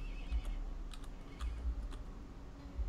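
A baby horse in the blocky video game Block Story gives short, faint neighs and whinnies, with light clicks and taps scattered between them.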